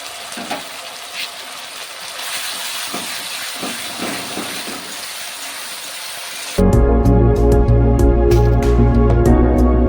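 Ginger garlic paste added to fried onions in a hot pan for chicken kosha: quiet frying at first, then a sudden loud, dense sizzle and crackle that holds steady.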